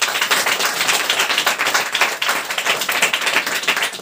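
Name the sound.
audience clapping loudly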